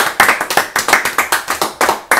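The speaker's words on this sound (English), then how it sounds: "let's clap hands for Jesus Christ" Church congregation at a Sunday gospel service clapping hands in unison, a loud, even rhythm of about a dozen sharp claps in quick succession with no talk.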